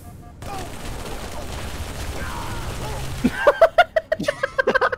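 Turret fire in the Halo 3 video game: a rapid burst of repeated heavy shots arrives near the end, following a stretch of rumbling game noise with voices in the background.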